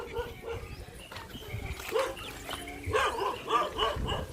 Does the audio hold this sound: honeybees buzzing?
no